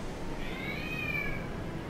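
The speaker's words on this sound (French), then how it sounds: "Oui, le chat! Pourquoi tu miaules?" A house cat meows once, a drawn-out rising and falling cry lasting about a second, close by over a steady background hum of game sound.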